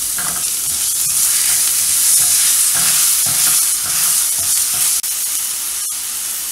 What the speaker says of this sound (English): I'm going to add ½ teaspoon of chili flakes, and then I'll add my garlic and just mix it a little bit